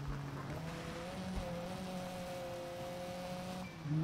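A rally car engine in the WRC 5 racing game holds a steady droning tone with shifting pitch and faint tire noise, sounding continuous and moderately loud with no talk.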